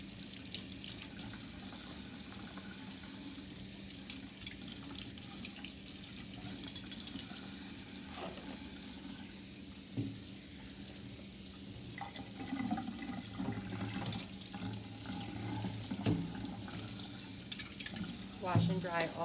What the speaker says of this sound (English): As well as wash all of my utensils with soap and water.